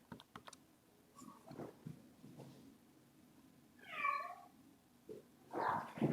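A pet cat named Callie gives one clear, drawn-out meow at mid distance, surrounded by scattered computer keyboard typing and clicks, ending with a brief louder burst of noise.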